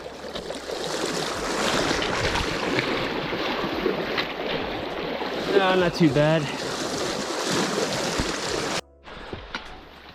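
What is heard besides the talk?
river flowing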